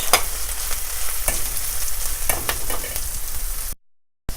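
Onions frying and being stirred in a pan for an Indian aloo gobi, a steady loud sizzle with scraping strokes of the spoon throughout, then a sudden drop to silence near the end.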